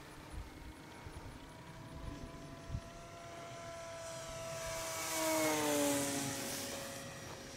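A Parkzone P-51 Mustang RC airplane flies past on a landing pass, its electric motor whine rising and sweeping down in pitch as it nears and passes, loudest midway before fading, over outdoor background noise.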